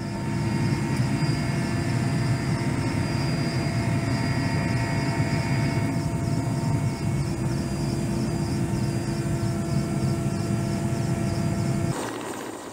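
A rescue helicopter hovers during a wildfire-rescue training descent, its rotor and turbine roaring loudly and steadily for over ten seconds before the noise abruptly cuts down near the end.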